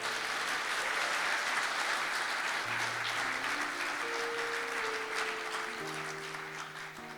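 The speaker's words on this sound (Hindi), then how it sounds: "खुदावंद यीशु के लिए जोरदार तालियां बजाएं" A church congregation applauds loudly and steadily in praise of Jesus, a sustained wash of clapping with soft held keyboard notes beneath it that slowly eases toward the end.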